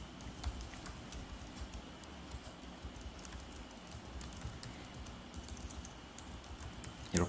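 Fast, steady tapping on a computer keyboard as an email address is entered, a long run of light close keystrokes heard alone at low level.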